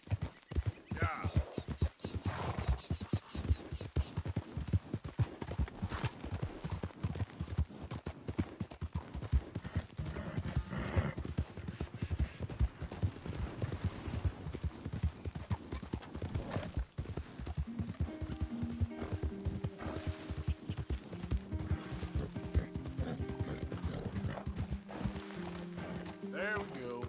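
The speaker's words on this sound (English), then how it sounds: "It's a good horse." Horse hooves clip-clop steadily in a PS4 video game, a dense rhythmic trotting that runs throughout beside a stable, with occasional whinnies, background game music and a voice talking over it.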